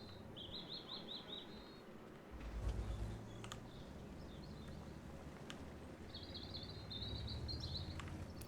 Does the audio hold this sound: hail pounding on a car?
no